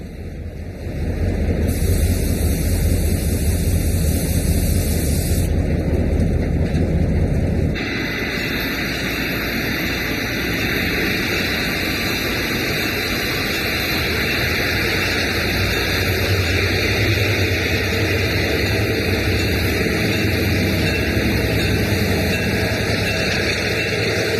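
A Burlington Northern E-unit commuter train slows through a tight nine-degree curve, wheel flanges squealing in sustained high tones over a heavy, steady rumble and wind noise that continue for the whole stretch.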